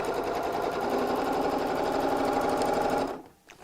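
A sewing machine stitches fabric for a tote bag in one fast, even mechanical run, close and loud, then stops abruptly near the end.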